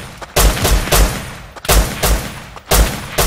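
Loud, rapid bursts of gunfire from shooting at an enemy in a video game, with several sharp volleys separated by brief gaps.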